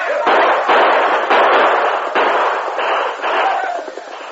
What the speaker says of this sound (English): Ride around them, keep firing down at them.